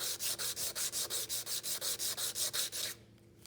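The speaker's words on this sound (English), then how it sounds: "instead of moving the sandpaper on your metal piece, you can move your metal piece on your sandpaper." A small metal piece rubbed back and forth on sandpaper, giving a steady series of about fifteen rhythmic rasping strokes, close up, then stopping into quiet.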